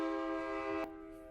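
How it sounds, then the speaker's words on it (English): A train in Savannah sounds its horn in a loud, sustained blast that stops abruptly, leaving a fainter rumble. "This train is so loud."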